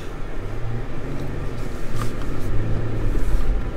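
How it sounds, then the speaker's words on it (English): A Ford Ranger or Everest drives through snow, its engine a steady low rumble with a constant hiss of tyres and wind, close and unbroken throughout. "Driving both the Ranger and the Everest, seeing what they're capable of in the snow."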